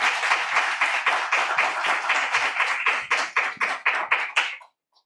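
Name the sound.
audience applause for panelists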